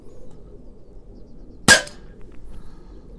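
A Umarex Walther CP88 air pistol fires one sharp, close crack through a Caldwell chronograph, and the shot ends quickly against a quiet room.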